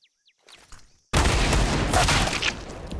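A UMP submachine gun spraying in Counter-Strike: after a quiet moment with a few faint sounds, a loud continuous burst of automatic fire erupts and holds to the end, close and dominant.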